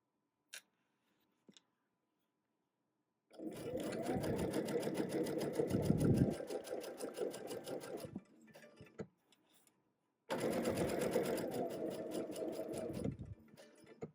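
A sewing machine stitching a quilt seam on a Tula Pink butterfly quilt runs in two steady bursts, the first about five seconds and the second about three, with a few faint clicks and a quiet pause between them.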